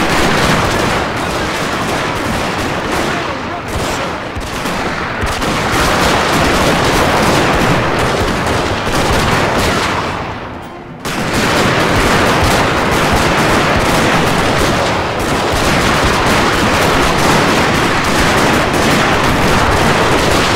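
Massed Gatling guns in Total War: Shogun 2 pour out dense, continuous rapid fire with loud battle noise, a short lull near the middle, then sustained volleys resume.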